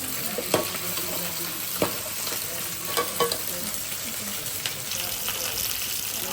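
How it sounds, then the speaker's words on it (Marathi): Spice masala with ginger garlic paste fries in oil with a continuous sizzle, broken by occasional clinks and scrapes of stirring, close and fairly loud. "आता थोडं तेलामध्ये शिजू द्यायचं मसाल्याला"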